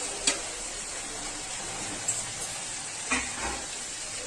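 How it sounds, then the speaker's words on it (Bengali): Banana flower curry with fried potatoes is stirred in a hot pan, a soft continuous sizzle broken by a few brief scraping clinks of the spoon against the pan. "এর মধ্যে ভাজা আলুগুলো এর মধ্যে দিয়ে দেবো।"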